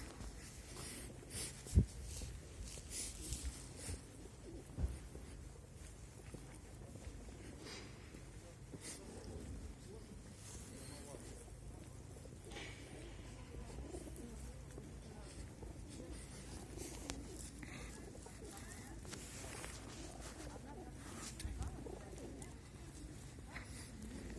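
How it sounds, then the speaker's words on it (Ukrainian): Pigeons cooing softly in the distance on a street in Truskavets, Ukraine, a few low calls over quiet ambient background noise, with faint indistinct voices. "Голуби."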